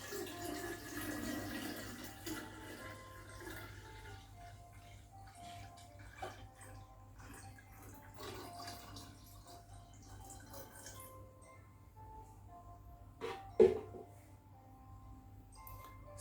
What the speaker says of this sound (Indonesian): Lalu kita tambahkan 2 liter air matang atau air mineral.